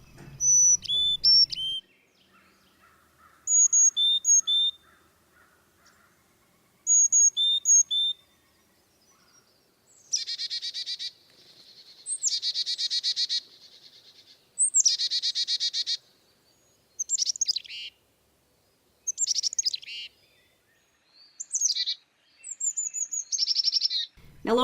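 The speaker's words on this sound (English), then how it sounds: "That's the Carolina chickadee, one of our small seed-eating birds, very common to come to bird feeders." Carolina chickadee, a small seed-eating songbird common at feeders, calling in a forest setting: clear high whistled notes followed by repeated buzzy chick-a-dee-dee phrases, about ten short bursts separated by pauses, fairly close and alone.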